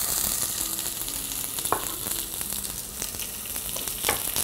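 Onion fries in garlic-infused oil in a pan with a steady, close sizzling hiss and occasional soft crackles and stirring clicks throughout, no voices.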